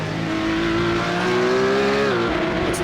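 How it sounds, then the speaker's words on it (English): A full rear-engine Porsche Cup race car in a sim racing game on Road America accelerates hard through the gears, its loud steady engine note climbing in pitch before a brief shift near the end, with no talk over it. "he's able to get the power down here with the full rear engine Porsche coming up through 6"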